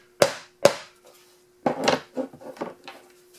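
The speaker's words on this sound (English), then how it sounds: "just barely tap your nail in the center." Two sharp taps of a nail being lightly set into cardboard at a workshop bench, close and fairly loud, spaced about half a second apart, followed by a person talking.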